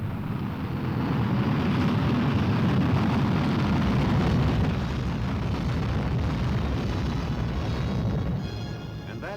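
The Vanguard rocket launch failure, a sustained deep roaring explosion and rumble, loud and continuous, gradually fading toward the end.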